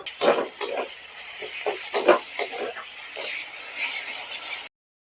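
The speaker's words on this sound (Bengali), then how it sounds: "দিয়ে এটাকেও আমি ভালো করে ভাজবো।" Ginger, garlic and green chilli paste frying in a pan for a vetki fish and potato curry, with a bright hissing sizzle and repeated sharp scrapes of a spatula stirring, close and fairly loud.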